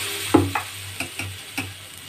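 Batter for gola roti poured into a hot pan: a sharp initial sizzle followed by a few light ticks and taps of a utensil, close and brief, with no voices.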